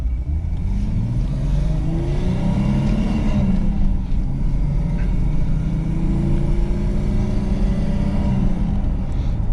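A Chevrolet Suprema GLS with a 4.1 engine and manual gearbox accelerates, its smooth engine note rising in pitch through the revs, then easing and climbing again, loud and close inside the cabin with no talk.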